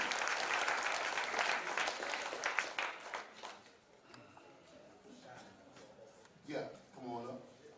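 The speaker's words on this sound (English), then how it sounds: "So y'all clap it up." Group clapping at a youth national championship 10U media day, a burst of applause for the first few seconds that thins out, followed by someone talking nearby.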